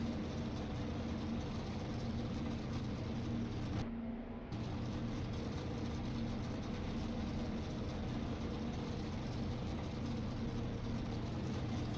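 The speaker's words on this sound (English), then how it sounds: "Forgot about the pace car being loud." A racing video game pace car's steady, droning engine hum runs continuously at low volume, with one brief dip partway through, no voices.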